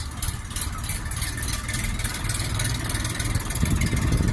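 A Bulat 244 Lux tractor with a KM engine and wide 9.5-24 tires idles steadily during loading, a continuous low, rumbling drone that stays close and even throughout.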